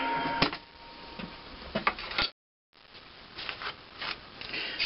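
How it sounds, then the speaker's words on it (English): A manual milling machine cuts a valve seat on an IHC engine, giving irregular scraping and clattering machining noise at close range, broken by a brief total dropout partway through. "of a manual milling machine."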